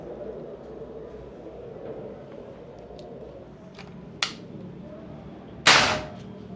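A Predator OD 38 V2 PCP air rifle fires two sharp, separate shots over steady low background noise, the second louder and with a brief ringing tail.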